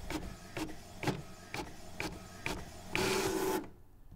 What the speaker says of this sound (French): de l'encre sur du papier qui sort sur mon imprimante